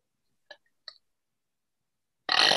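A single loud burp at the end follows two short soft clicks and near silence, with no talking.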